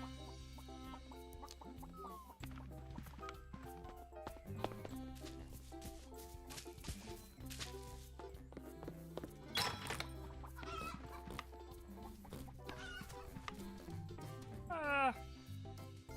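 Chickens in a video game demo give scattered clucks amid busy, layered game music and sound effects, while a person talks over the top.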